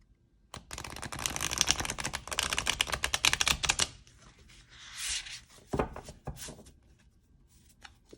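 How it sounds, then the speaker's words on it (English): Riffle shuffling of a Botan Tarot card deck, a rapid dense flutter of cards for several seconds, then softer sliding and tapping as the deck is squared, close and clear with no talk. "let me zoom out and maybe I can show you how well it shuffles."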